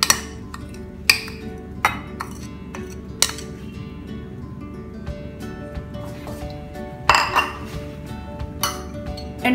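Margarine, butter and sugar being beaten together in a bowl, with repeated sharp clinks of a utensil striking the bowl at irregular intervals over a quiet background.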